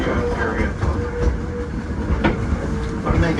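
A passenger train ride near Smith's Creek Depot and Railroad Junction: a loud, steady rumble with repeated clattering wheel clicks on the rails throughout.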